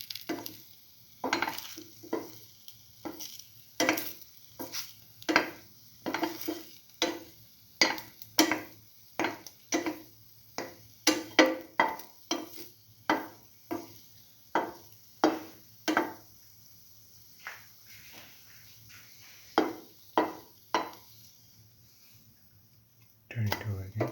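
Chili ginger garlic French toast frying in a pan on the stove, with a soft sizzle beneath repeated sharp clinks and scrapes of a utensil against the pan, close and steady.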